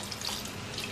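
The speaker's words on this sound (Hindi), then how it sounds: "पानी डालेंगे" Water pours steadily into a pan of tomatoes on low to medium heat while making chili garlic sauce, a short close splashing stream with no talk.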